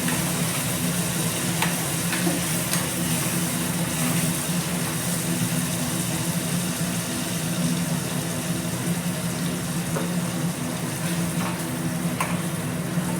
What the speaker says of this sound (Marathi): कांदा लाल होऊ द्यायचा आहे